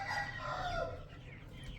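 A rooster on a poultry farm crows once in a long, drawn-out call that trails off, heard faintly at a distance over a low background rumble.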